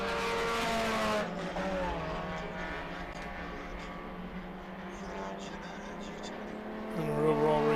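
A Ginetta G20 race car drives on the Road Atlanta circuit during a race, its engine droning loud and continuous with shifting pitch, and it swells again near the end while commentators talk over it.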